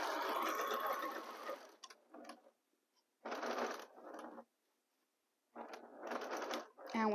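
Domestic sewing machine stitching pieced fabric for a Shoofly quilt block, running in several short bursts of steady whirring separated by pauses, close and fairly loud.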